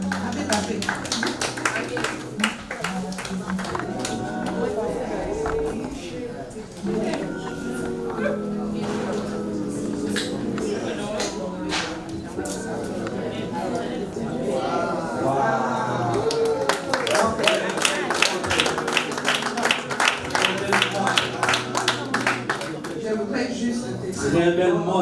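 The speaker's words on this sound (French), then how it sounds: "Et applaudir." Family applauding at a surprise 60th birthday party for a father: a burst of dense, ragged hand-clapping builds in the latter half amid lively chatter and voices.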